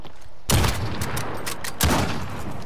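Gunfire in Call of Duty: Modern Warfare, two loud sharp shot bursts with a rattling tail between them, close and prominent.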